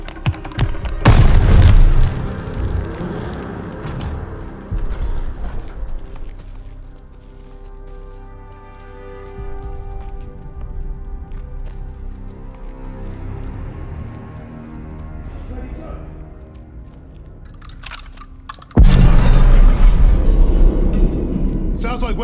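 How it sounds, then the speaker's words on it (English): A grenade goes off in Call of Duty: Vanguard, with heavy booming blasts at the start and again near the end, plus battle noise and shouting voices in between. "Grenade!"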